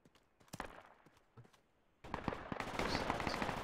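Gunshots in the Project Reality military video game: a few sharp, scattered cracks at first, then a sudden swell into louder, continuous rattling fire.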